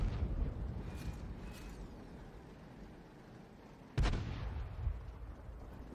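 Artillery shells from a Lorraine 155 mle.51 self-propelled gun strike enemy tanks in a tank battle video game, two heavy booming impacts with a long rumbling decay between them, loud and close.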